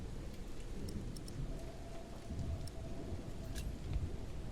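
Steady rain pours down in a video game thunderstorm, with rolling thunder rumbling low underneath. The dense, even hiss continues throughout with no voices.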